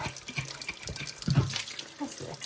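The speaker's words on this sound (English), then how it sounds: "I don't normally have this many water bottles to wash" Tap water runs into a sink while several reusable water bottles are washed, a steady close splashing stream with brief clunks of bottles and faint movement throughout.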